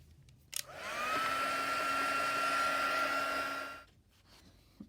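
A hair dryer whooshes on and runs steadily for about three seconds at close range, drying paint in a Bible journaling session, then switches off into quiet.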